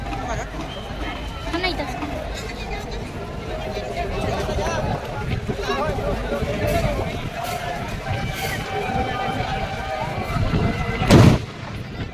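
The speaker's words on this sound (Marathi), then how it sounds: "फटाके पण फुटले जातात महाकालेश्वरसाठी." Firecrackers burst at Ram Ghat in Ujjain for Mahakaleshwar, near the flooded temple. A steady roar of booming reports runs under crowd noise, with one loud, sharp blast near the end.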